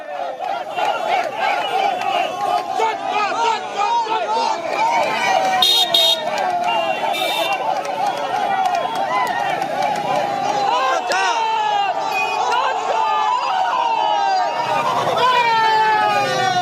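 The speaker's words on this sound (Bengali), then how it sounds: "যেখানে সুভাষ সরকারকে দেখে চোর চোর স্লোগান উঠল" Outside the Taldangra counting centre on bypoll results day, a crowd loudly chants a repeated slogan at Subhas Sarkar, voices overlapping continuously amid shouting, with a horn or whistle cutting through briefly.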